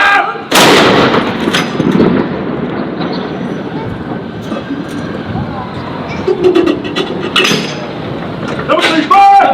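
US and UK soldiers fire a 21-gun salute from Edinburgh Castle for the King. A loud cannon blast rings out, followed by a long echoing rumble and scattered crowd noise, with a few sharper bangs later on.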